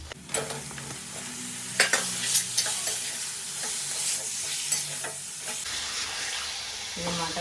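Mutton frying in a pan while a spatula stirs it: a steady close sizzle under repeated scraping strokes and clinks against the metal, loud at first then settling into a softer, continuous fry, with no talking.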